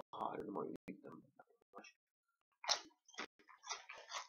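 Tyrrells sweet chili and red pepper crisps crunch in the mouth in short, close bursts broken by pauses, with someone speaking between the bites.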